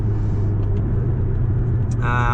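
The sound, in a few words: Porsche 718 Cayman GTS driving in bad weather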